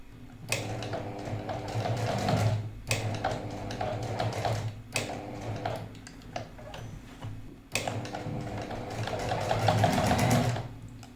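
A sewing machine stitches a zip and lace onto a neck design in four bursts of rapid mechanical chatter, each broken by brief pauses, close and alone.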